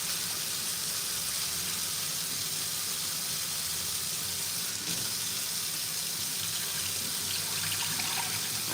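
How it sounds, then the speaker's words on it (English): Cool tap water runs steadily over raw chicken in a sink, rinsed for Filipino adobo; an even, continuous hiss and splash holds at low-moderate level with no talking. "I'm just gonna keep rinsing. And I like to just rinse with cool water."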